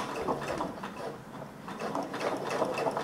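Sewing machine stitching a hem on jeans, running in a steady, continuous mechanical whir with rhythmic needle chatter, close and moderately loud, with no voices.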